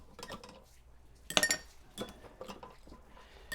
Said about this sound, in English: we're going to load up our stirring glass with some ice